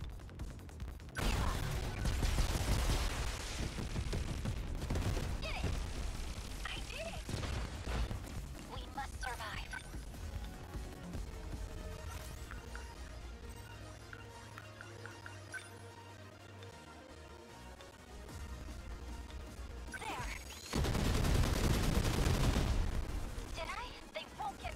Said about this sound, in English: Okay, keep missiling. Keep up the missiles.